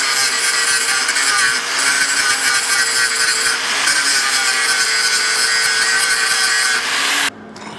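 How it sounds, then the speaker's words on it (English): A flap disc on a grinder works down a raised spot on a metal floor drain crushed by a forklift, giving a loud, steady, high whirring grind for about seven seconds before cutting off abruptly. "We're gonna hit that with the flap disc real quick like"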